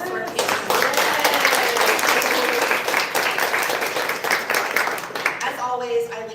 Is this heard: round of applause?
yes